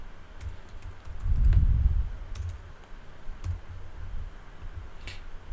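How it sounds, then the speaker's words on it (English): Typing on a computer keyboard, faint quick key clicks with a soft low thump in a quiet room, no talking. "Let me type this out in this open space."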